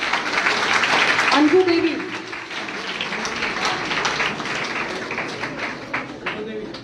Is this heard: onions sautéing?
no